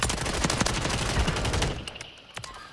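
Rapid gunfire from the video game Warzone 3 rattles in dense overlapping bursts, fairly loud and continuous for most of the stretch before thinning to a few scattered shots.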